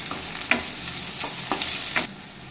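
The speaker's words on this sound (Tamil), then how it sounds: "இப்போ நம்ம எடுத்து வச்சிருக்கிற பச்சை மிளகாயை இது கூட நம்ம ஆட் பண்ணி அதை கிளறி விட்டுக்கலாம்." Green chillies are stirred into frying onions for a cauliflower and peas kurma, a constant sizzle punctuated by several spatula scrapes roughly every half second.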